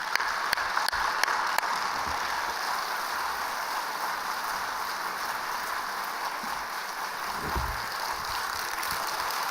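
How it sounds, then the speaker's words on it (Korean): A church congregation at a special night prayer meeting applauds to welcome the pastor. The clapping is a steady, even wash of sound that lasts throughout, with a few sharper claps near the start. "큰 박수로 환영하시겠습니다"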